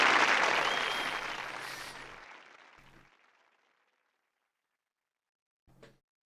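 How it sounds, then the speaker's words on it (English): A burst of clapping and cheering in the game Frog Detective 3: Corruption at Cowboy County fades gradually over a few seconds into silence, followed by a faint short knock. "Erupts in applause."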